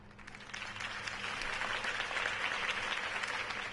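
A crowd applauding after a campaign speech in Batman: The Telltale Series, rising quickly into a dense, sustained roar of clapping.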